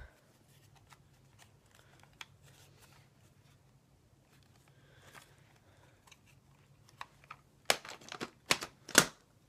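Plastic audio cassette case being closed, faint handling rustles followed by several sharp close clicks and snaps near the end.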